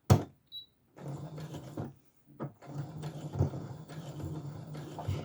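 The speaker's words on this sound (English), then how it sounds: "now I'm going to sew a couple of stitches" Sewing machine stitching a fabric dart, a few short bursts of rapid mechanical whirring separated by pauses as it sews forward and back stitches, close and moderately loud.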